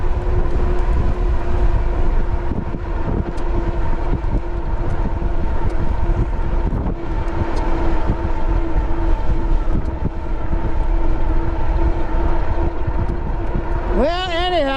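Wind roars steadily past the rider of a JASION X-Hunter folding ebike on a winter ride, a dense, loud buffeting rumble with a faint steady hum underneath that runs unbroken throughout.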